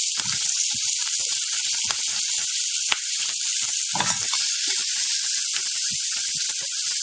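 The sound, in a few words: onion and green chillies frying in oil for capsicum chutney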